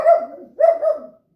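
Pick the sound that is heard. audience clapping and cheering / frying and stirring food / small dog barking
small dog barking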